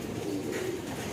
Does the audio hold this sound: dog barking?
no